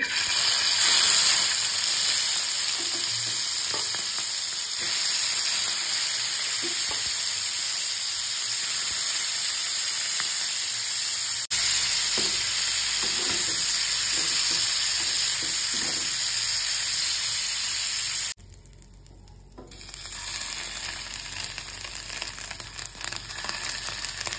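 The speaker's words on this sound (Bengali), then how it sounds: "এখন কয়েকটা চিংড়ি মাছ ভেজে নেব।" Prawns frying in a pan give a steady, close hissing sizzle that runs without pause, briefly dropping out near the end before resuming; no one speaks.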